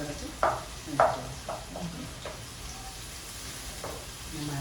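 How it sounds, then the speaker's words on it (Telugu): Village-style dry fish frying in a pan, a faint steady sizzle under a few short clattering stirs, with bursts of nearby talk over it. "బ్రౌన్ వచ్చే వరకు వేయించుకోవాలి"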